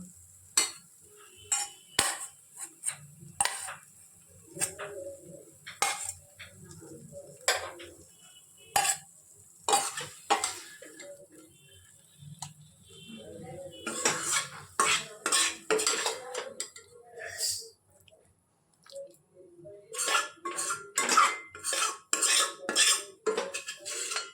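Kochu shak (taro leaf greens) scraped from a karahi into a bowl, with repeated clinks and scrapes of a metal spoon against the pan, close and irregular, with brief pauses.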